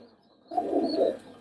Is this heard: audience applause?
no